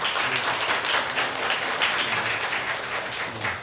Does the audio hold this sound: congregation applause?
yes